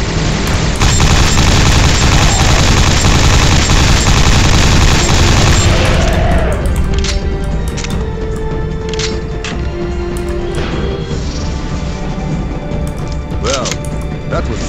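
Heavy gunfire and explosions from the Quake 4 video game roar loudly in a dense barrage, then thin out into scattered shots and metallic clanks over a droning background.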